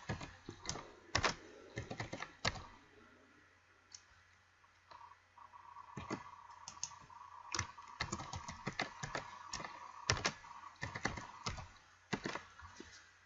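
A password being typed on a computer keyboard, heard close up as irregular bursts of sharp key clicks with short pauses, some louder taps standing out over a quiet room.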